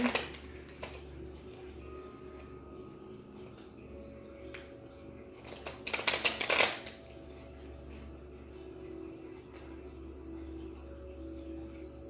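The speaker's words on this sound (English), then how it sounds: "one more shuffle here" A single quick burst of tarot cards being shuffled in a quiet room, a brief riffling flutter lasting under a second amid faint background hum.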